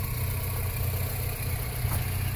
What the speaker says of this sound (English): Car is idling nicely.